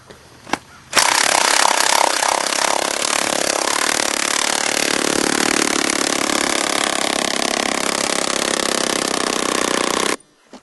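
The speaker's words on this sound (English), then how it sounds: "Ryan here has a system where he uses a electric impact driver" An electric impact driver turns an auger into the ground for fiberglass electric fence posts, with a loud, close, continuous rapid hammering and whir that starts abruptly after a few knocks and stops suddenly near the end.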